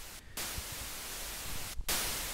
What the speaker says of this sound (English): we're just going to use the white noise generator